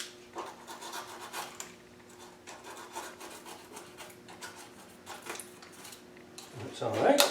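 Coarse 40-grit sandpaper rasps steadily across the dashboard of a Land Rover Series 3 during restoration prep, a continuous scratchy rubbing with brief pauses and a louder burst near the end.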